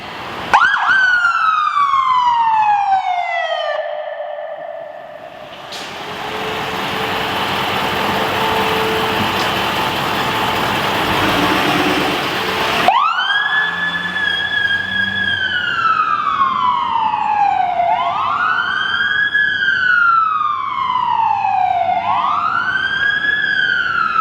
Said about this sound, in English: So here's the ambulance.